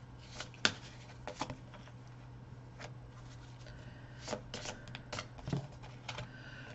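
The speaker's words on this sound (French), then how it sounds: "je vais vous retirer une carte là-dessus." Tarot cards being drawn and shuffled by hand during a Taurus astrology card reading, giving soft, close, irregular flicks and riffles spread across the stretch over a steady low hum, with no talking.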